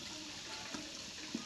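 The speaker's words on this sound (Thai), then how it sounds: "ก๊อกน้ำสำหรับนักเรียนใช้" Water running steadily from a students' tap at a rural school in southern Laos, a faint, continuous splashing hiss with a couple of small louder spatters.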